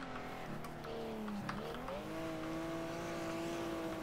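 A race car engine in the Wreckfest racing game climbs and drops in pitch as it shifts up through the gears, a steady close drone with tire noise underneath.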